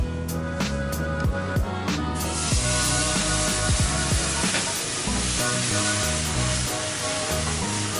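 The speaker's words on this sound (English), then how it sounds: "now I'm gonna add my warm milk" Warm milk poured into a hot pan of toasted flour roux for bechamel, starting with clinks and knocks, then becoming a loud continuous sizzling hiss with scattered taps.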